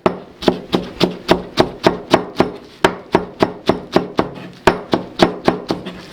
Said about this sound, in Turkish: Öncelikle bir tutam maydanozumuzu doğrayacağız.